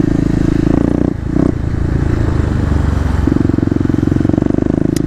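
A Kawasaki KLX250 motorcycle engine runs loud and steady as the rider repeatedly rolls on and off the throttle, the exhaust note rising and falling in pulses, briefly dipping before surging again.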